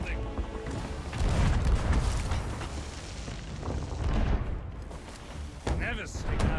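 Heavy booms of cannon fire from the pirate video game Sea of Thieves, several deep blasts with creaking ship sounds between them, and voices talking over the action.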